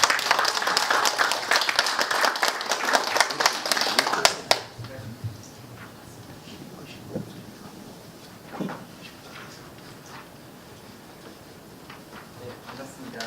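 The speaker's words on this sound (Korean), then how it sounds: "뜨거운 박수 모시겠습니다." Dense audience applause welcomes a university environmental engineering professor before a lecture, loud and continuous for about four seconds, then dying away into a quiet room with scattered shuffles and small knocks.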